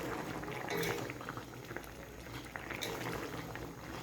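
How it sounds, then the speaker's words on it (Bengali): Vegetables simmer in a covered pot beside a fish curry, giving a steady bubbling, gurgling boil at close range with low, even loudness throughout. No speech. "এবার ঢাকা দিয়ে দেবো যাতে সবজিগুলি সিদ্ধ হয়ে যায়"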